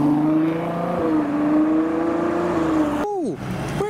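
A Ferrari 812 sports car leaving a car show, its engine holding a loud sustained rising tone near the listener, then a sharp gear change and a quick falling pitch as it pulls away.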